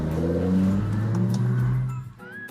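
A BMW M5 engine with loud aftermarket air filters revs hard, a dense roaring rise and fall with intake growl, close and loud, then drops off sharply near the end.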